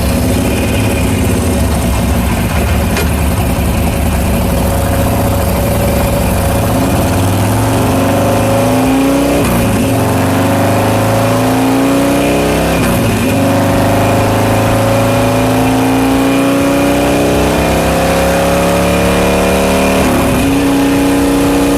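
A motorcycle engine runs on a load test during Fuelpak step mapping. It is loud and close throughout, with rising and falling revs that sweep up in repeated stepped pulls over a steady rumble, and no talking.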